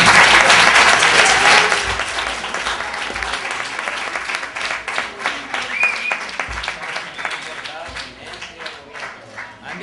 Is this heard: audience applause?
yes